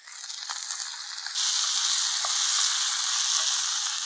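Chopped vegetables fry with tomatoes and onions in a pan for kootanchoru, a steady close sizzle that jumps suddenly louder and brighter partway through, with a couple of faint knocks and no talking.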